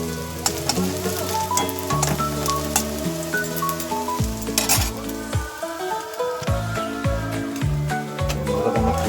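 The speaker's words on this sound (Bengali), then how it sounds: "পেঁয়াজটা লাল লাল করে ভেজে নিই" Onion sizzles loudly in a pan for fried rice, a dense continuous frying hiss broken by frequent clinks and scrapes of a utensil against the pan, with steady tonal hum underneath.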